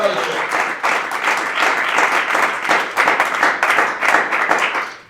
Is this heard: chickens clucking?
no